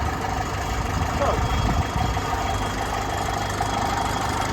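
A 1956 TEF20 tractor engine idling after restoration, with a steady, loud, close low chugging rumble running throughout as someone talks over it.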